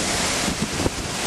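A loud, steady roar of rushing, spraying water from a waterfall, heard from beneath it, fills the air without pause, heavy with broadband hiss and buffeting wind.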